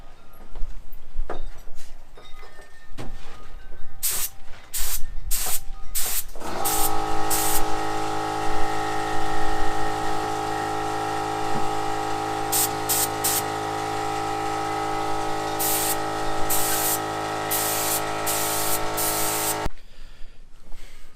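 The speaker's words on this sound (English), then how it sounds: "I'm gonna go ahead and get the paint mixed and the compressor hooked up, and we're gonna get ready to go ahead and paint this" A paint gun fed by an air compressor sprays paint onto a junkyard-build roll cage, a loud steady hiss that continues for about thirteen seconds under a sustained tonal hum, after several short bursts of spray at the start.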